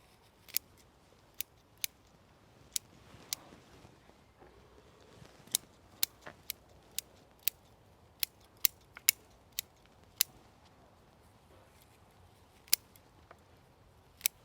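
Sharp metallic scissor snips trimming a bonsai in summer, scattered irregularly and close by, each a crisp click over a quiet background with faint rustling.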